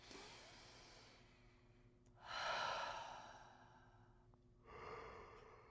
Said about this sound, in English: so go ahead and take some really big deep breaths.